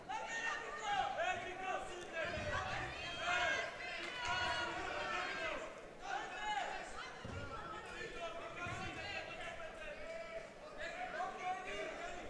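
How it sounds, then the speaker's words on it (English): An indoor audience at a cadet European judo championship in Sarajevo cheers and chatters throughout as a dense crowd roar, with a commentator talking over it. "Petravvic has a crowd behind her in the audience"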